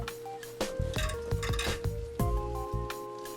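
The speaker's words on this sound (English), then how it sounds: "Now install the new flapper." Clinks and light clatter of porcelain and plastic parts as a new flapper is fitted inside a toilet tank during a running-toilet repair, a handful of close, crisp knocks with no talking.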